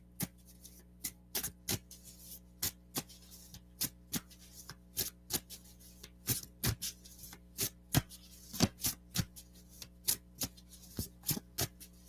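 Playing cards shuffled by hand during a live card reading, giving a steady run of sharp, close riffling snaps and flicks in irregular bursts over a quiet low hum, with no talking.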